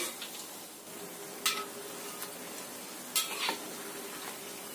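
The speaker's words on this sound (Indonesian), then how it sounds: "Goreng sampai benar-benar kuning, kuning kemasan atau kering." Krupuk crackers frying in hot oil until golden and dry give a steady, faint sizzle, broken by a few sharp clinks of a utensil against the pan.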